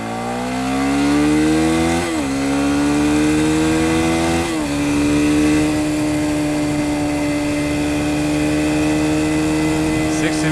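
A motorcycle accelerates up to 60 miles per hour, its engine tone climbing steadily through two gear shifts, each marked by a brief dip before the pitch rises again, then holding a strong steady drone near the microphone.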